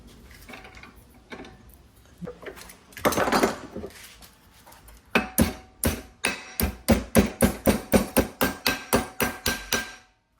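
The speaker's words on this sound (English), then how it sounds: "hitting it with the hammer" Hammer blows drive a custom head unit mount into place in a 2002 Honda Accord: a few scattered taps at first, then a long steady run of loud, evenly spaced strikes close by.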